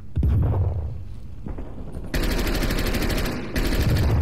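Loud, close bursts of automatic gunfire from Call of Duty: Cold War multiplayer, rattling in rapid volleys with a short lull near the middle and a final burst at the end.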